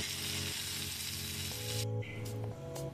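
Jitada fish sizzling and crackling steadily in hot oil as it fries, a loud continuous hiss close by with a brief lull and a few sharper pops toward the end.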